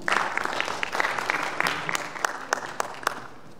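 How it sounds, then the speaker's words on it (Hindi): An audience claps at a birthday tribute on a televised evening show, a moderate burst of applause with distinct individual claps standing out, not very loud and fairly close. "इन्हां लई बहुत सारियां तालियां।"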